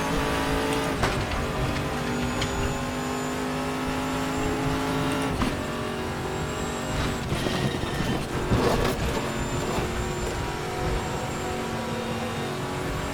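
Engine of a Nissan GTR GT1 race car in the RaceRoom racing game, a loud sustained roar rising and falling through gear changes, with shifts and brief tire noise throughout.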